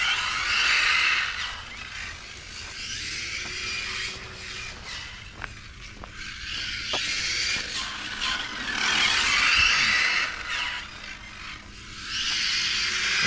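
A Hobao VTe GT radio-controlled car drives on a track, its electric motor whining in waves that swell and fade as it passes closer and farther, with faint clicks and light rubbing noises and no talking.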